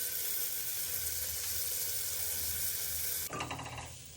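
Garlic and ginger sizzle loudly in a hot pan for a Bengali mutton stew with a steady, close frying hiss. The texture shifts abruptly near the end.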